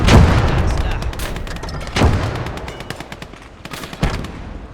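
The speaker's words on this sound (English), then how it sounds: "Firing over open sight at this point." Battlefield gunfire in the World War II strategy game Call to Arms: Gates of Hell, Finnish front: several loud sharp shots with ringing echoes, spaced a couple of seconds apart, over a steady rumble and scattered lighter cracks.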